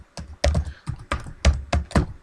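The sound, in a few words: typing a web address on a computer keyboard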